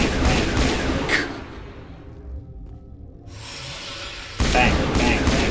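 Dense gunfire and whooshing combat effects from the video game Mass Effect Legendary Edition, loud bursts at the start and end with a quieter lull between, with a voice talking over parts of it.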